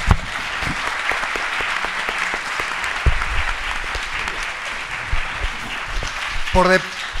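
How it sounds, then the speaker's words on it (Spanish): Audience at a forum on sacred plants and psychoactives breaks into sustained applause, steady clapping throughout with a brief voice near the end. "Un aplauso, por favor, a todos los que..."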